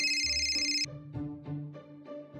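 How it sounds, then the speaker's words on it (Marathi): A telephone rings with repeated electronic tones in short bursts, loud and close, with an incoming call from America; a brief low rumble sits beneath the opening ring. "आईला सिद्धू भाऊचा फोन थेट अमेरिकेहून."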